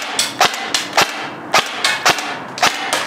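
A Helios Umbrella Corporation M4 SBR airsoft rifle double feeding as it fires: sharp, close snapping shots in an uneven sequence of about eight cracks over three seconds, with no talk.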